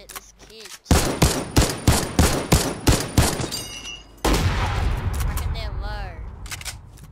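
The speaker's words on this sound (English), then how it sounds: "They were shooting us." Rapid bursts of gunfire from a duos battle video game crack out in a quick rhythmic string of close, loud shots, then give way to a noisy, lower-level wash of game sound.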